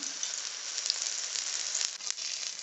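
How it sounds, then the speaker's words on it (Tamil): King fish pieces coated in masala frying in oil on a hot dosa pan over low flame, a steady, close, bright sizzle with a few sharper crackles and pops. "இப்போ மசாலா தடவி வச்சுருக்கிற மீன் துண்டுகளை போட்டுக்கலாம் ஸோ எண்ணெய் விட்டுக்கலாம் லோ ஃப்ளேம்லேயே நல்லா வேகட்டும்"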